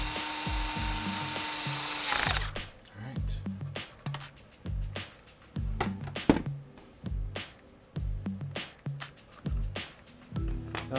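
Screws being tightened into plastic parts of a Traxxas Slash LCG RC truck, with repeated close ratcheting clicks in short bursts and brief pauses between turns.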